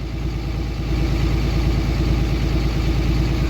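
A Cummins diesel truck engine idles with the idle raised, a steady, even low rumble with a fast regular firing pulse that holds at a constant level throughout, close by and with no voices.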